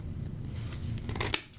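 Scissors cut through a stacked pile of paper held at the middle, a soft crunching snip building to one crisp cut near the end, close and alone.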